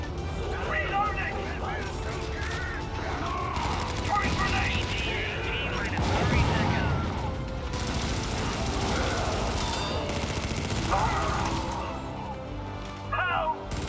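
Automatic turret gunfire in the Helldivers video game, a steady rattling mechanical barrage with crashing impacts running throughout, mixed with other game noise and a voice talking over it.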